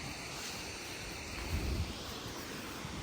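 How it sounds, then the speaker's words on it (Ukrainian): Steady wind roars and buffets against the microphone with a broad rushing hiss and a brief low gust in the middle; no one speaks. "Тут так дуже вітер дує. Вона чути, як воно шумить."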